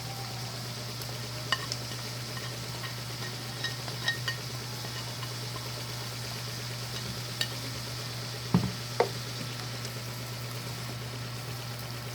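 Carrots fry in a pan for lumpiang baboy with kangkong, giving a steady, soft sizzle under a constant low hum, broken now and then by faint taps and a couple of clacks of stirring.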